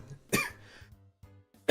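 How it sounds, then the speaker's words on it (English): A person coughs, one sharp harsh burst followed by a few softer throat sounds and short breathy pauses, then another loud cough at the end, close up with no talking. "I have to stop coughing"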